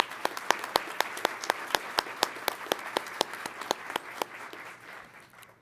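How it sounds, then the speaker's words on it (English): Applause for a maintenance team at a pilot training graduation ceremony, a modest crowd clapping with a few loud, sharp individual claps standing out in an irregular rhythm, fading toward the end. "a round of applause for them"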